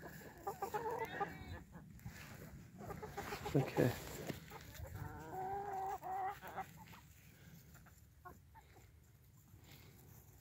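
Backyard chickens clucking softly while pecking and scratching in dug-up dirt, scattered near and faint calls with a few louder squawks, quiet rustling, and brief human speech in between.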